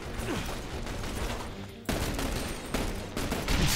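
Dense gunfire from a shooter video game crackles in continuous bursts of rapid shots, loud and near, with a brief drop in the middle before the barrage resumes.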